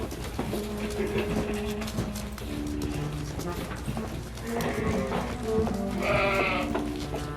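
A flock of sheep bleats repeatedly, overlapping and fairly close, as the herd is driven down from the Austrian Alps to a stable, with a steady din of movement and other animal calls filling the background.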